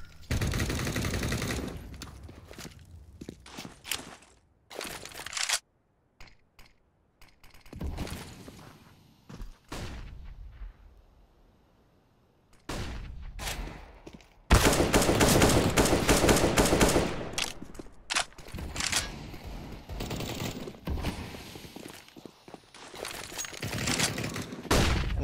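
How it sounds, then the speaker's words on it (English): Pistol fire in Counter-Strike on Dust 2, with loud bursts of rapid shots and dense exchanges of gunfire broken by brief quiet gaps, under faint commentary. "The Deagle from Davey, or the 5-7 from Davey"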